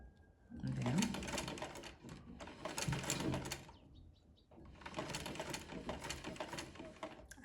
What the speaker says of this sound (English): Now I'll stitch, and as I stitch I'm going to take out the pins gradually.